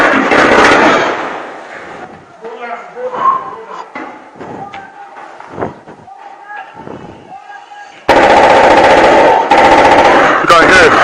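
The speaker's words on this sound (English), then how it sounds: "You can hear shots." Rapid bursts of automatic gunfire from the Nigerian army attacking the home of a Biafran leader in Nigeria, loud and sustained at the start and again near the end, with a quieter middle stretch of scattered sounds and voices.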